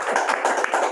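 Brief burst of audience applause at an Indonesian children's podcast forum in Cirebon, several hands clapping in quick irregular bursts, fairly close and moderately loud, lasting under a second.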